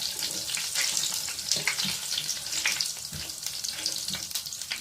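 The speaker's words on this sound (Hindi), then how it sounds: "ये ऑयल जो है ये गर्म हो चुका है, और अब इसके अंदर मैं अपने जो खड़े मसाले हैं उनको ऐड कर रही हूँ" Whole spices sizzle and crackle in hot oil for a chicken tikka pulao, a steady loud frying hiss with scattered pops and a few stirring clinks, no talking.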